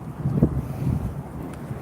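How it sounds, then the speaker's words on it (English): Low, gusty wind rumble buffeting the microphone outdoors, steady with a few stronger puffs, no voices. "It's a little windy."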